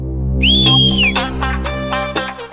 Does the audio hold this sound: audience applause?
no